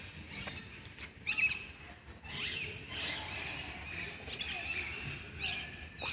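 Shrill, scratchy parrot calls repeat from nearby trees in Gülhane Park, Istanbul, over a steady outdoor hum, a few sharp squawks standing out.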